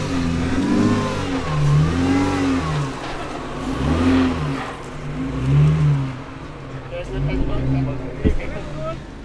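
A 4x4 vehicle's engine revs repeatedly in rising and falling surges while crawling off-road at a driving school, loud and close, with people calling out directions over it.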